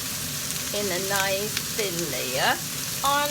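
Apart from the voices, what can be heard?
onions roasting in oil on a pan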